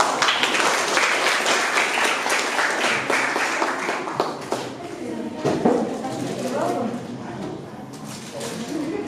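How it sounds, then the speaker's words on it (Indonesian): Audience applause follows a presentation on flood-resilient housing, a dense wash of clapping that stays steady and fairly loud before thinning out near the end, with some voices mixed in underneath. "tepuk tangan dulu"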